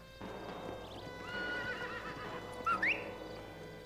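A horse in the Red Dead Redemption video game whinnies, with a high rising neigh near the end, while hooves clip-clop steadily at a moderate distance beneath the riding sounds.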